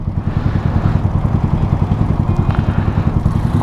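A small-wheeled Yamaha Mio scooter ridden fast: a steady, close, continuous engine drone with a buzzing low rumble and no break for the whole stretch.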